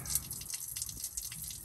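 Water trickles and gushes steadily, faint and close, from the freeze plug hole in a Ford F-150 engine, a continuous wet splashing with no talk.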